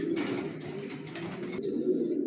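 Racer pigeons give low, throaty coos close by, a continuous murmuring burble with brief faint rustles.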